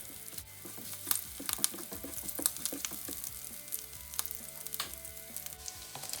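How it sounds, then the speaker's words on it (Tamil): Mustard seeds, cumin, garlic and curry leaves frying in sesame oil in a pan; a constant close sizzle dotted with sharp pops and crackles, with occasional stirring scrapes. "இப்போ ஒரு பாத்திரத்துக்குள்ளே நல்லெண்ணெய் விட்டு கொஞ்சம் கடுகு, சீரகம், உள்ளி, கருவேப்பிலை எல்லாம் போட்டு கிளறிட்டு"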